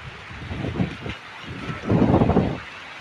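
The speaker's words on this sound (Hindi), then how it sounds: "सो गाइस देखिए अब बारिश भी होने लग गई है," Rain falls outdoors over a kitchen garden under dark storm clouds, a soft broadband patter that swells in uneven bursts and grows loudest toward the end, with no voices.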